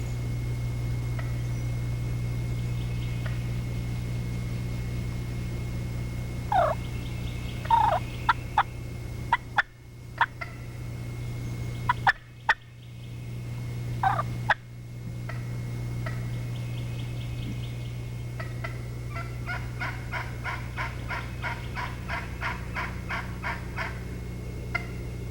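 A wild turkey gobbler gobbles in the distance in a few short bursts amid a steady low hum, followed by a rapid series of clucking yelps, with no voices.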